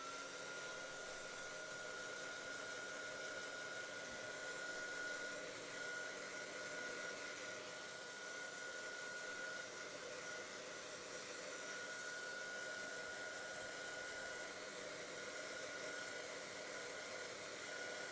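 Dryer blowing on craft and junk journal pages, a faint, steady airy whir with a thin high whine, continuous throughout with no talking.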